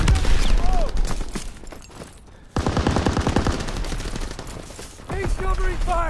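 Rapid automatic gunfire in the online deathmatch of Call of Duty WWII, dense bursts of shots that stop for a short lull and then resume hard, with voices talking over the shooting.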